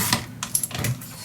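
Scissors snip a few quick, crisp cuts through paper for a handmade scrapbook mini album, close up and short with small gaps between strokes.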